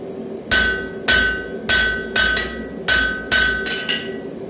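Steel bar hammered into a square taper while forging a twisted scroll: seven sharp, ringing hammer blows land at a steady, slightly uneven pace, close and loud, each with a bright metallic ring.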